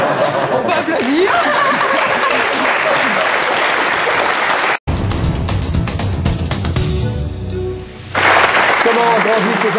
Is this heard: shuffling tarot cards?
no